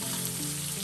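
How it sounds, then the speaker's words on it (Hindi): Ginger, garlic and sliced large green chillies fry in oil for a Hyderabadi-style Apollo fish fry, giving a dense, steady close-up sizzle with no voice over it. "अदरक लहसुन हरी मिर्च फ्राई करना है।"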